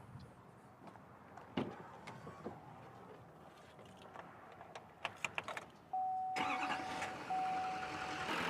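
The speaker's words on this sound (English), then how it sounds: "So let's go start this truck and let it idle for a while." Clicks and clatter give way to a truck engine cranking and catching, then settling into a steady idle that continues to the end.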